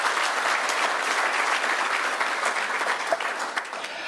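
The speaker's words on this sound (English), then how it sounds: "Another round of applause." Audience applause at a Zimbabwe Prisons and Correctional Service conference on parole, with a dense, sustained round of clapping from a large crowd that stays steady and full throughout.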